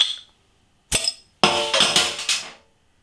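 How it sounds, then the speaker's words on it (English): A bottle of Portobello Brewery's Portobello Star Amber Ale is opened with a short sharp pop, then poured into a glass with a rushing, fizzing splash lasting about a second, heard up close with no talking. "Let's get the beer out into a glass and see what we get."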